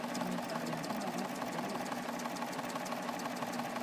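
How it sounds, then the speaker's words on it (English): A serger sewing machine runs at a steady fast pace while stitching crochet edge trim, producing a continuous close, even mechanical whir and rapid clatter throughout. "You also need that serger."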